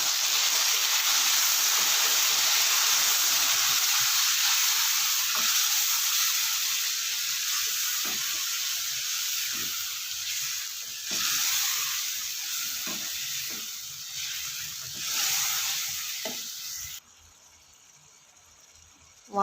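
Tomato paste made from about four tomatoes sizzles in a pan for a village-style masala fish curry, a steady hiss of frying with faint stirring scrapes, continuous and close, cutting off near the end.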